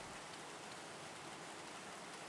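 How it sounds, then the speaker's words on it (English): Steady rain ambience of ordinary, moderate rainfall plays as a backdrop during a Pathfinder 2E tabletop game session, a soft continuous hiss of drops with no voices. "today is regular rain"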